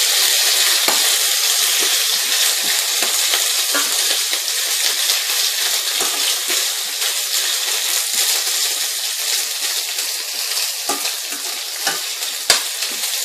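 Onions and garlic frying and being stirred in a pan for an Indian tamarind sauce, a loud continuous sizzle with frequent scraping clicks of the utensil against the pan.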